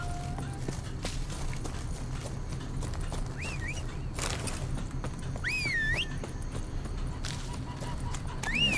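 Hooves of a horse in the video game The Witcher 3 clop steadily at a run over rough terrain, a mid-level rhythmic beat under game ambience, with brief bright chirping calls and a voice talking at moments.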